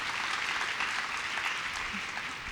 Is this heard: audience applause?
yes